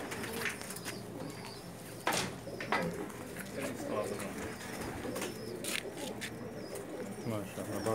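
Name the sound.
pigeons cooing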